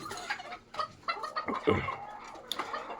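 Backyard laying hens cluck in short, irregular bursts, a few birds close by, with soft background rustle between calls and no one speaking.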